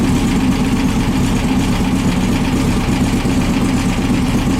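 The 1915cc air-cooled engine of a VW Manx buggy runs loud and close at a steady, throbbing idle with a rough low rumble and no change in pace, and no voices come through.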